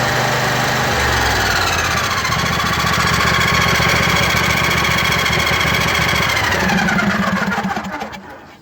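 A riding lawn mower with a low battery cranks briefly, then its small engine catches and settles into a steady, loud idle close by, fading out at the end.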